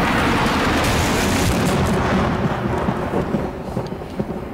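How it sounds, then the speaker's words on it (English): A long, loud rumble of thunder after a lightning strike, rolling heavily at first and then slowly fading with a few low crackles, with no voices. "It's just lightning!"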